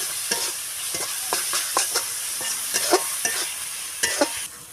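Chopped tomato sautéing in a pan for an egg and potato curry, a steady soft sizzle broken by repeated scraping stirs of a spoon, close and without talk.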